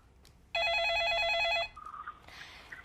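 A telephone rings with an incoming call on a live call-in stock advice broadcast, giving one clear, warbling electronic ring burst of about a second, followed by faint studio background.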